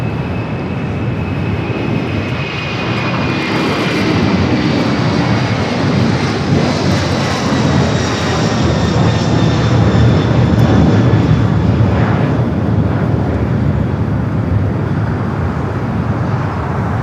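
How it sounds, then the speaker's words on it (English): A FedEx jet departs Los Angeles International Airport, its engines producing a loud, steady roar that swells slightly midway and holds for the whole stretch, with no talk over it. "We do have a FedEx sneaking out of here."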